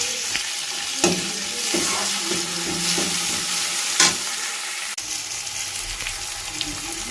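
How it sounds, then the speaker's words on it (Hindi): Onions and tomatoes fry and sizzle in a pan for a quick breakfast, with a steady close crackle and a few sharp spoon scrapes and clatters as the mix is stirred, no voices. "प्यारे टमाटर डाल देते हैं।"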